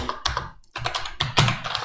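Rapid typing on a computer keyboard while coding an Angular 18 app, with close, crisp clusters of keystrokes broken by a brief pause, no talking.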